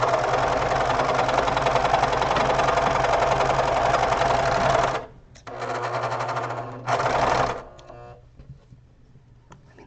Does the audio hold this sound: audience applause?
no